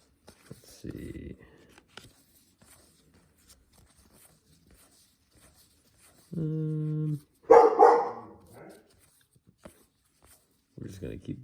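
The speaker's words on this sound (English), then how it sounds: "We're just going to keep that dog barking in the background." A dog barks in the background of a room, heard as a few short, scattered bursts, one sharp, louder outburst standing apart from long near-silent stretches.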